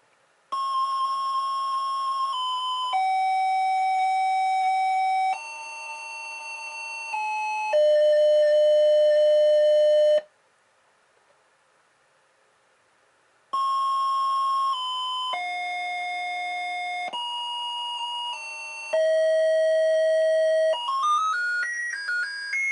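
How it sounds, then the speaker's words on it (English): Chiptune-style square-wave melody from The Black Cauldron computer game: a descending death jingle of held tones, a short silence, then a second jingle ending in a quick rising arpeggio, loud and alone. "in the death, when the king catches you and he puts you in the cauldron, you hear the death sound, and then you hear a happy sound"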